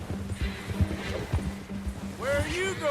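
A horse in Red Dead Redemption 2 resting by a stream, heard as soft hoof clops and a brief whinny near the end, under game ambience with a voice talking.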